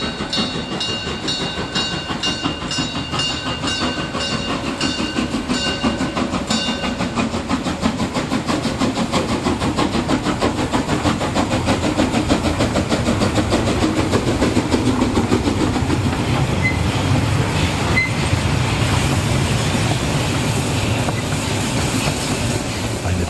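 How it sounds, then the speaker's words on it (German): A narrow-gauge Molli steam train of the Bäderbahn rolls past through a town square in Bad Doberan, with steady wheel clatter and a rumbling run-by that builds and lingers for over twenty seconds with no talk. "rollen die schmalspurigen Züge der Bäderbahn hier am Haus Gottesfrieden vorbei, mitten über den Alexandrinenplatz"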